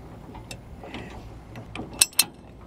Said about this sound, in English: I'm gonna put one hand here on the barrel and kind of start ratcheting it